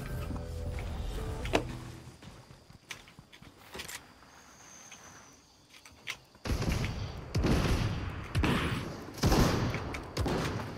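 Gunfire in Fortnite: a quieter stretch of scattered shots and thuds gives way to louder, denser bursts of firing in the second half, with loud impacts close by.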